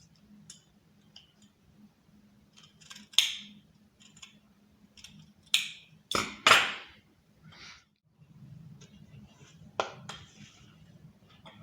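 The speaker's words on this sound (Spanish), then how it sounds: "Aquí nada más voy a recortar con esto, las tijeras" Scissors snipping wood veneer for a marquetry border, a series of sharp isolated cuts and clicks spaced irregularly over quiet background hum.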